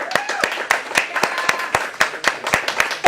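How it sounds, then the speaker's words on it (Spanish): A church congregation claps in a steady, rhythmic beat, sharp individual claps repeating about three times a second, fairly close and distinct, with a faint voice briefly underneath. "vamos a darle un aplauso a Cristo"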